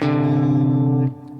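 A sustained guitar dyad, a second interval, rings steadily with two close notes beating against each other, then cuts off near the end, with no talking.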